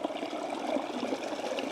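Water flows and trickles steadily at a rocky limestone outcrop, a soft, continuous babbling close by with no voices.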